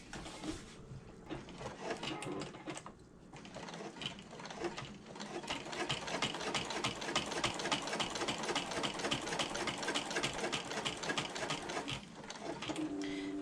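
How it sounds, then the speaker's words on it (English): A sewing machine runs in a steady, fast stitching rhythm while top-stitching around a bag pocket overlay, pausing briefly in places and then continuing, close and fairly quiet with no talking. "what we're going to do is top stitch around the outside of the overlay"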